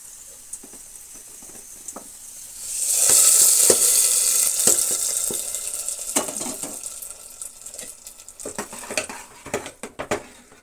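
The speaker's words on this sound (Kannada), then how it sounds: "ಈಗ ಒಗ್ಗರಣೆ ಕೊಡೋಣ." Hot tempering poured into greens sambar hisses into a loud, bright sizzle that swells then slowly fades, followed by scattered clinks and stirring knocks of a ladle against the pot, with no talking.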